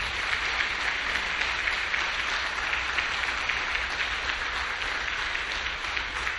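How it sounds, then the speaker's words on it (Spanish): A crowd applauds steadily and evenly for several seconds, a dense wash of many hands clapping with no voices standing out. "Un cariñoso aplauso para todos los papás"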